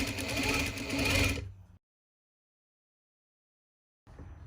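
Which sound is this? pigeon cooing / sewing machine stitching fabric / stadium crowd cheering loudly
sewing machine stitching fabric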